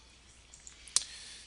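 A single sharp computer mouse click in a quiet room, close and brief, with faint keyboard or desk handling just before it.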